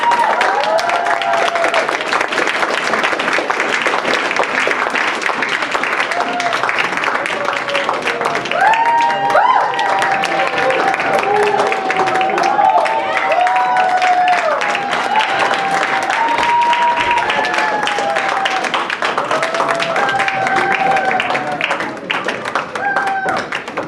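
Sustained audience applause fills a pageant hall as candidates at Mr. and Ms. International 2018 return to the stage, dense clapping continuing throughout while voices talk and call out over it.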